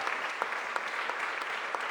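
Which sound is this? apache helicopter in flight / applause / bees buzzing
applause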